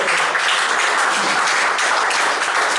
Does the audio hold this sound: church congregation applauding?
yes